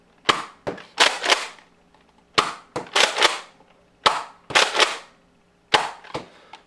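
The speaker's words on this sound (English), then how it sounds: "I'm going to start with the Elite darts first. I'm going to shoot them one at a time" A Nerf N-Strike Elite Alpha Trooper blaster fires Elite foam darts one at a time, giving about a dozen sharp, close, snappy bursts in irregular pairs and clusters, separated by short silences.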